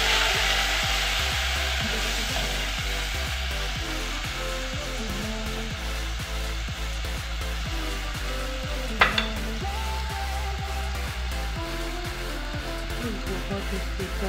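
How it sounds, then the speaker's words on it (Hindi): Garlic fries in a spoonful of oil in a pot, giving a steady close sizzle with a brief clink of utensils partway through and no talking. "लहसुन को मैं करूँगी 2 मिनट के लिए फ्राई।"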